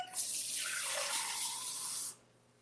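Water from a kitchen tap runs into a drinking glass in one steady, close hissing pour that rises slightly in pitch as the glass fills, then stops abruptly.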